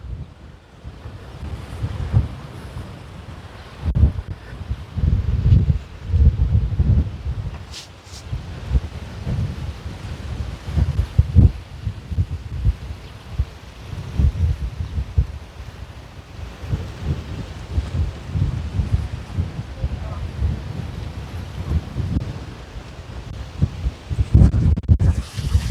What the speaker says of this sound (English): that wind's really picking up now